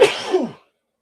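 A single close, sharp sneeze that trails off quickly into silence.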